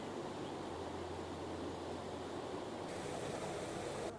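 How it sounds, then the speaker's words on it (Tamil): Water rushes steadily through a sluice gate at a small village fishing spot in Jaffna, a loud continuous roar with no breaks. "இந்த வான் கதவால் எப்படி வந்து தண்ணி அப்படியே கொஞ்சம் கொஞ்சமாக பாயுன்னு"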